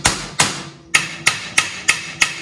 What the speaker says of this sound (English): The reason why you use a copper mallet, because you don't damage the threads then.